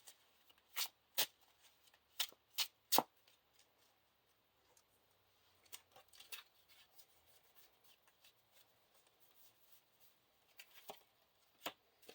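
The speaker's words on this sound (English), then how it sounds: "shuffle a brace of conies into each player's deck" Playing cards for a Lord of the Rings card game are shuffled into a deck, sharp riffling snaps clustered in quick bursts with quieter rubbing and sliding between them, close and fairly quiet.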